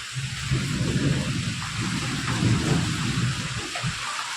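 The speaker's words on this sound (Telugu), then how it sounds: "ఒక రేంజ్లో పడుతుంది వర్షం అయితే" Heavy rain pours steadily and loudly, with low rumbling thunder rolling through beneath the dense hiss of the downpour during a storm in Nizamabad.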